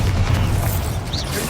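A Bombarda spell explodes in the Hogwarts Legacy video game as a loud, dense boom with a heavy low rumble that fills the short moment.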